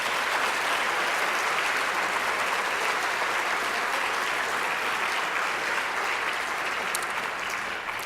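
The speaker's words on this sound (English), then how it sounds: "Let's give them another huge round of applause." A large diversity-conference audience gives a long, sustained round of applause for the Outstanding Women of Color honorees, thick and even clapping that stays loud throughout.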